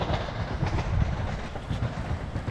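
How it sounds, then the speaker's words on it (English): A train rumbles steadily at a distance near Barden Lake, a low continuous rolling noise with faint rhythmic clatter and no voices. "There is a train in the distance"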